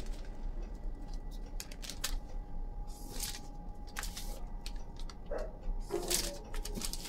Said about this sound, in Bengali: দেখো এই দাগগুলো কেটে দিচ্ছি।